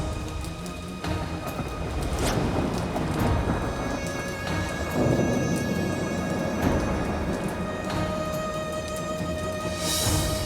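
Steady rain pours outside during a wind and rain storm, with a broad rushing wash and a few deeper rumbles of thunder rolling through; no one speaks.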